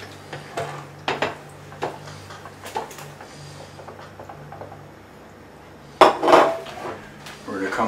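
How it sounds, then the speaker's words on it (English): Utensils and pots clatter in a kitchen while cream goes into a pot for a Christmas duck dish, light clinks scattered throughout and a louder burst of clanking near the end. "we're gonna throw in the cream."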